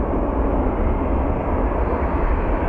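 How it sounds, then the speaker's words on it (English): Departing Southwest airliner at Phoenix Sky Harbor airport, a loud, steady broadband jet engine roar that holds constant throughout, with no voices over it. "We do have our Southwest flight departing."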